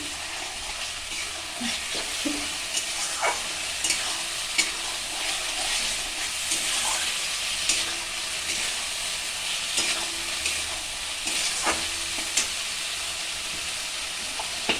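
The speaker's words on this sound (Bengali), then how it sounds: "এটা দিয়ে একটু কষিয়ে নিচ্ছি" Ground green chilli paste fries in a pan, giving a steady, close sizzle broken by scrapes and clinks of stirring throughout, with no voices.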